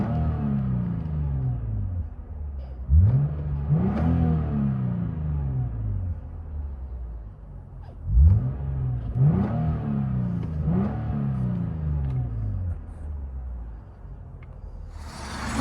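A 2014 Lexus IS 250 with a 2.5L engine and valvetronic mufflers opened, revving loudly nearby in several rising and falling bursts, each climbing quickly and then dropping back to a rumbling idle.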